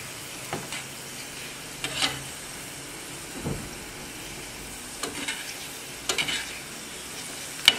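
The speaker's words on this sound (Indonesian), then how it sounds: "tuangkan gula aren tersebut ke dalam air mendidih, aduk hingga gula aren tersebut larut dalam air" Palm sugar being stirred into boiling water in a pot, heard as a faint bubbling simmer with several soft scraping stirs at irregular intervals and no talking.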